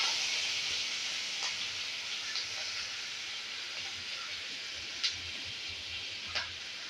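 Chilli paste (mirchi kharda) frying in hot oil with cumin over a lowered flame, a steady soft hiss with a few faint crackles and pops, no talking.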